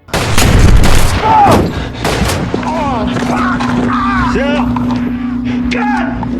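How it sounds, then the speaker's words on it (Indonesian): Gunfire breaks out at a motel in a film scene. Loud bursts of shots and booming impacts open the clip, then a sustained hum and scattered sharp effects follow beneath someone narrating over the action. "muncullah seseorang yang menembaki mereka"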